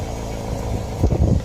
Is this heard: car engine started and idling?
yes